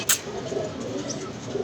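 Pigeons coo in a loft, soft low rolling calls repeating through the moment, near and moderately loud, with a brief sharp noise at the start.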